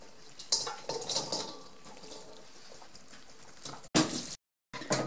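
Cooked food, onions for homemade blood sausage, is poured from a full pot into a mixing bowl, giving wet sloshing, scraping and clattering kitchen noise close by, with a short sharp clank near the end.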